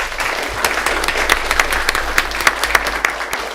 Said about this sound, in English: let's give Tree Win a round of applause